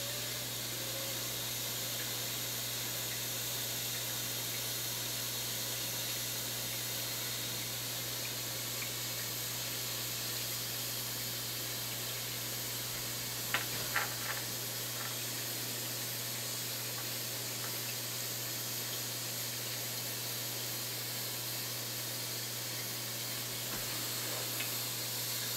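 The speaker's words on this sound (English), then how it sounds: "Basically just running fuel, solvent I should say" Solvent run through a tube of cannabis plant material outdoors for BHO extraction, a steady, even hiss lasting throughout with a constant low hum beneath it and a few faint clicks partway through.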